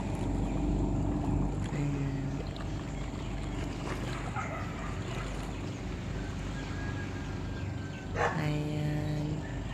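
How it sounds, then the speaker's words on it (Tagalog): A boat moving across open sea near an island, its steady low engine drone running throughout with wind and water noise, a dog barking briefly in the background. "paparating na bangka."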